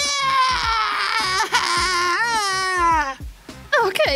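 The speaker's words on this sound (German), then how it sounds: "Weint das kleine Baby?" An infant cries in long, wavering wails with short breaks, loud and close, and a cartoon-style voiced cry with rising and falling pitch over a couple of breaths.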